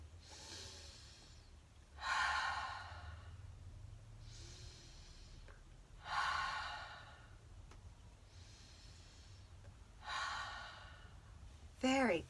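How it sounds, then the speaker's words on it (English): Slow deep breathing exercise led for children: three long, steady exhalations spaced a few seconds apart, each a soft airy whoosh, with a sharper snort-like breath at the very end, heard close and alone. "let's do our breathing"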